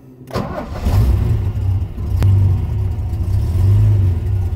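Ford Capri engine cranking and catching after a clutch cable replacement, then settling into a loud, steady idle with a slight lumpy rumble, close by.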